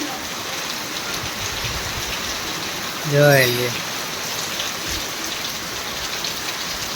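Heavy rain pours down steadily in a village, a dense, even wash of close drumming that holds throughout, with a person speaking briefly over it midway.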